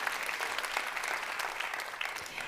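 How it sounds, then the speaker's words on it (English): Dense, steady applause from an audience fills the space, many hands clapping evenly and at moderate distance without any voices over it. "Really, I clap for you."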